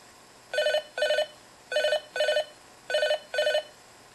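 An electronic phone ringtone generated by a Parallax Propeller microcontroller trills in three pairs of buzzy bursts, steady and evenly spaced, loud and close with no voices.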